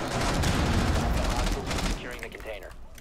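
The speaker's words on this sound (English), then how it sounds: "I shot a camera by accident" Heavy, rapid gunfire from the Rainbow Six Siege video game, a close, sustained fusillade that thins out toward the end, with voices talking over the shooting.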